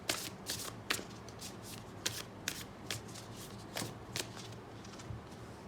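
Cards shuffled for a card reading, a quick run of crisp riffling flicks repeating in bursts, close and fairly quiet with no talk.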